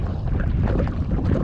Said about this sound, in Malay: dah petang, angin pun dah kuat.